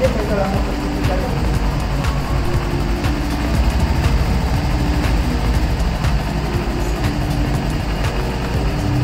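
A Kawasaki Versys 300 motorcycle idles at a dealership, its low engine rumble holding steady throughout while people talk over it.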